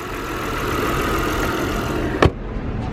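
A 2005 Audi A4 Cabriolet engine idles steadily up close with an even mid-pitched hum, broken near the end by a single sharp knock.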